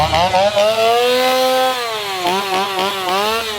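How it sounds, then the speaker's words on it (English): A loud chainsaw engine revved by a performer at Halloween Horror Nights 2024, close by, holding a steady high whine before dipping and wavering in pitch. "You got all these wonderful chainsaw performers"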